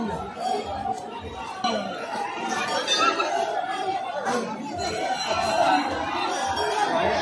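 A dense crowd murmurs and chatters at a Mahadev temple, many voices overlapping with occasional children's shouts and faint clinks, a steady close wash of noise.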